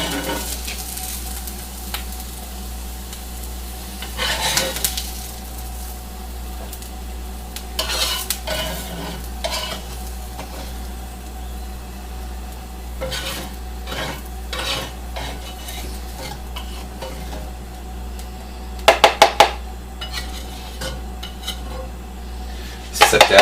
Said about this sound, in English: So I'm going to transfer those into a bowl.